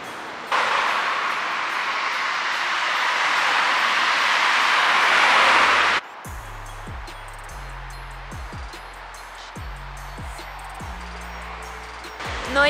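A metro train in Bucharest heads toward Tineretului station: a steady, loud roar of the running train gives way to clanking and rhythmic rumbling as it slows, heard close by with no talk over it.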